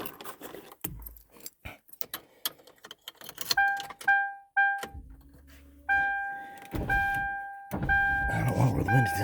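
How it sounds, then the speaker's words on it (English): Car keys jangle in bursts beside a locked car, with sharp clicks and thunks, followed by the steady electronic beeps and hum of the vehicle, close and fairly loud. "I'm going to have to get the key."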